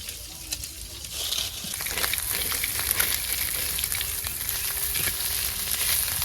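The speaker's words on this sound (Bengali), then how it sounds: "এই জন্য মায়ের মাছ ভাজি নিতেছে" Fish frying in a pan in a village home kitchen, a steady close crackling sizzle with bursts of popping oil and occasional stirring clatter, continuing throughout without talk.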